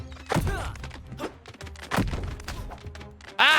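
Heavy ground-pound slam attacks in the Kao the Kangaroo video game land as several dull, punchy thuds spread across a few seconds, each with a short crunchy tail, mixed with other game effects.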